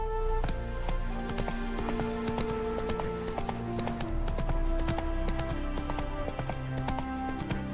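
Roach the horse gallops in The Witcher 3, steady rhythmic clip-clop of hooves carrying throughout, set against sustained musical tones from the game's score.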